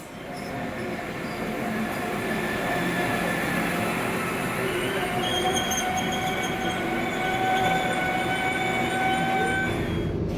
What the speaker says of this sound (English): the first train's on time, which is a good start